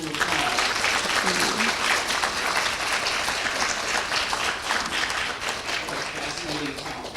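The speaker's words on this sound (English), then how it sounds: "Let's give Dr. Keaton a round of applause." An audience gives dense, sustained applause after a lunchtime talk on women and material culture, steady and moderately loud throughout, with faint voices mixed in.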